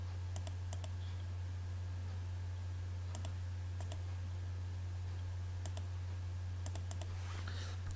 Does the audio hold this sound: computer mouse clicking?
yes